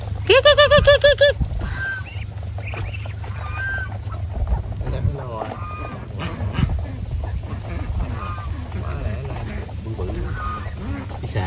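A flock of heavy farm ducks, around 3 kg each, calls out. A loud burst of repeated nasal honking quacks comes first, then softer scattered calls over a steady low rumble.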